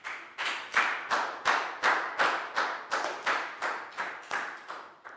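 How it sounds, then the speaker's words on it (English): A Year 4 maths class gives a student a round of applause in unison, crisp evenly spaced claps in a steady rhythm, about two per second, close and clear with no talk over them. "High five and a big round of applause for Prau"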